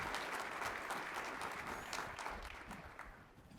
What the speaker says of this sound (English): Please join me in a round of applause for our panelists as we get started